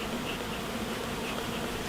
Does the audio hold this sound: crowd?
no